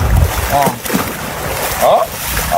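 Laundry rinsed by hand in a river, with watery sloshing and splashing in short bursts up close while someone talks over it.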